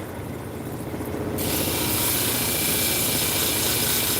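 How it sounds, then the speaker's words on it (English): A lapidary 280 grit resin wheel grinds chrysocolla stone, a motor hum that jumps into a loud, steady abrasive hiss once the stone meets the wheel, continuing without talk. "So this is a 280 grit resin wheel"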